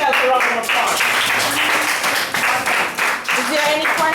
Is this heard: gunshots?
no